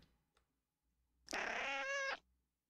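A single drawn-out cat meow in a video game, clear and fairly loud, rising and falling in pitch, with near silence before and after.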